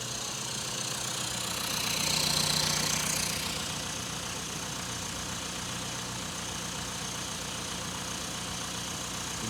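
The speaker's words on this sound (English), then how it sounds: "Sorry for the noise. It's a diesel." The diesel engine of a 2001 Volkswagen Golf TDI idles steadily nearby with a rough, knocking clatter and a low drone, swelling briefly early on and then holding even, with no talking.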